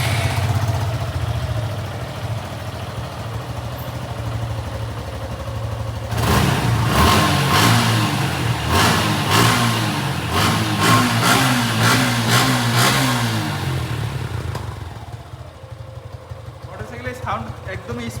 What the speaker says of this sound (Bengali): মোটরসাইকেলের সাউন্ড একদমই স্মুথ, কোনো ধোঁয়া বা কোনো ইঞ্জিনের নয়েজ এগুলো কিছুই নেই।